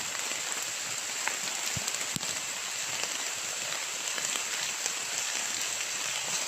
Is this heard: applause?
no